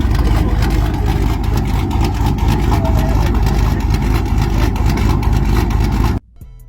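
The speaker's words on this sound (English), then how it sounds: "when you add camshaft and some good long tube headers, exhaust, it definitely give it like that crazy deep sound" A fourth-generation Ram 1500 truck engine with an aggressive camshaft, long-tube headers and deep exhaust rumbles loudly with a lopey idle and revving exhaust, constant and close, then cuts off abruptly at the end.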